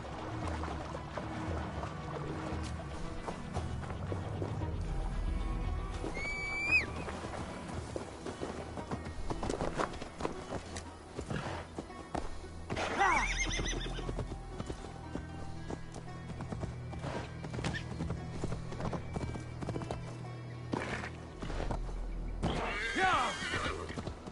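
Hooves clip-clop steadily over a busy Assassin's Creed Valhalla game soundscape with music and splashing, plus a couple of brief horse whinnies standing out around the middle.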